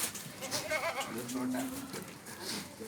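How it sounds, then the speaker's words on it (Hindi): A large pure white goat at a livestock sale bleats amid other goats, with steady talk running over the animal calls. "और ये बकरा है"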